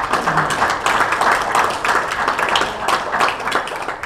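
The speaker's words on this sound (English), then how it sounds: "how about another round of applause" Audience at an Elks Lodge event applauding steadily, a dense wash of many hands clapping that stays loud and continuous from start to finish, with no talking over it.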